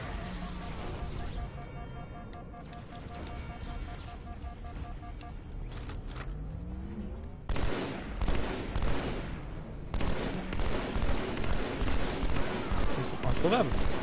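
Gunfire in the Halo 2 video game: dense bursts of shots and explosions with game music underneath, the firing growing heavier and more continuous in the second half.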